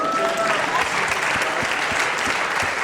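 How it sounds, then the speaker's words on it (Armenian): Audience applause at a live club show, a dense, even burst of many hands clapping close by, sustained through the whole moment. "եկեք իրոք ծափարենք"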